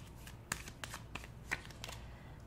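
Tarot cards being shuffled and drawn from the deck, a quiet run of soft riffling flicks and slaps at close range, with a few sharper snaps among them.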